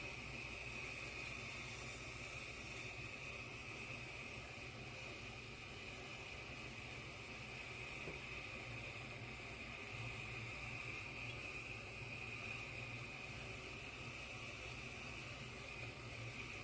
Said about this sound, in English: I'm just going to use my steamer. I'm only going to steam this for about, I don't know, a couple of minutes.